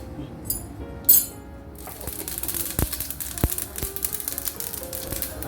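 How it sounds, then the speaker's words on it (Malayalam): Mustard seeds crackle in hot oil in a Kerala kitchen, with a brief clink at the start, then a steady hiss full of dense, irregular popping and a few sharper snaps, close by with no talking. "കടുക് പൊട്ടി"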